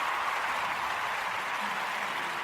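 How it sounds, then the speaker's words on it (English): A short round of applause plays as an added sound effect: a steady, dense wash of many hands clapping at even loudness throughout, with no voices on top. "I'm putting a little round of applause in there."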